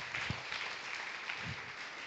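Congregation at a Sunday worship service clapping, a steady, moderately faint wash of hand claps filling the short stretch with no voices over it.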